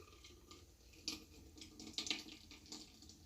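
Faint trickling and dripping of juice passing through a strainer into a cup, with a few soft splashes and patters, quiet and close.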